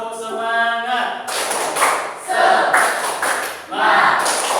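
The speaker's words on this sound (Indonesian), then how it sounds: "kita mulai tepuk semangat" A classroom of pupils performs a rhythmic spirit clap, bursts of sharp group claps in patterned beats following a teacher's sung lead-in, loud and close, with voices chanting along between clap phrases.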